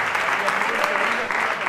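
An audience on a Spanish comedy show claps in a brief, steady burst with a voice speaking over the applause.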